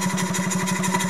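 A Piguet steam engine with a 50 mm bore and 50 mm stroke runs steadily, its fast, even chuffing pulses close and loud with no talk over them.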